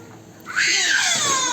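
Angry shouting from a toddler twin in a supermarket, beginning after a short lull and then running as one loud, sustained, strained cry to the end.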